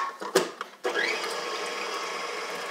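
An electric mixer whirs steadily, whisking eggs for a white chocolate matcha brownie batter, after a couple of brief clicks and knocks, close and continuous to the end.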